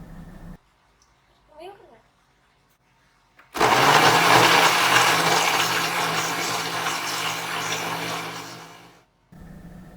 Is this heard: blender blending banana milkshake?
yes